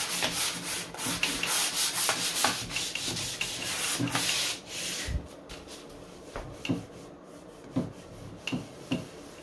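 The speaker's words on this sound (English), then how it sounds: "I'm going to take my sandpaper and just kind of sand over this to help stuff stick a little bit better" Sandpaper worked by hand over a wooden cabinet, loud rough scraping strokes repeating steadily and close, with sharper isolated rasps near the end and no talk.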